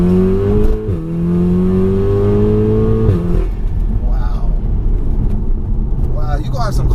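Stage 3 VW Golf R with roughly 500 bhp, heard from inside while driving: a loud, steady engine drone with rising and falling pitch as it revs, then rougher crackling exhaust noise toward the end.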